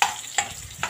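Onions sautéing in a pan for pancit, a sizzle punctuated by three quick stirring scrapes less than half a second apart.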